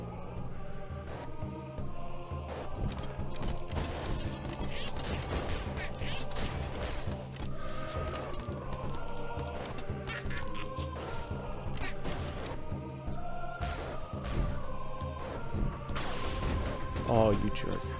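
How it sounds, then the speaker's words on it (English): Explosions boom again and again in the Caveblazers arena mode, dense bursts of crashing blasts layered over busy game music and effects throughout. "Am I immune to these explosions?"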